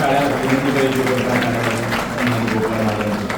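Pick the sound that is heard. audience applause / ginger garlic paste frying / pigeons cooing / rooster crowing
audience applause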